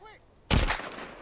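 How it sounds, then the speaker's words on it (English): A single gunshot from The Walking Dead: Saints & Sinners video game, a sharp blast that decays quickly, preceded by a faint voice. "I'm not sure why the gun sound is so like nerfed"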